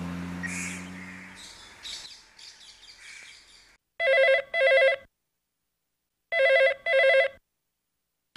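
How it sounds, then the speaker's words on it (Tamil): A telephone rings indoors in two separate double bursts of bright electronic trilling with silence between them, after a stretch of quieter room sound at the start. "ஏன் ஃபோன் போகுது, யாரும் எடுக்க மாட்டேங்கிறாங்க?"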